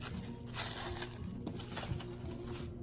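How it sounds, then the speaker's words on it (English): Plastic saran wrap crinkles and rustles around a log of herb butter as it is rolled and shaped, soft close-up crackling handling sounds at a low level without speech. "I'm going to start rolling it by covering it with the saran wrap"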